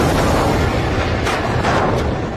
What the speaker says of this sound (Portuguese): a ilha grega de Santorini viveu uma das explosões vulcânicas mais devastadoras de todas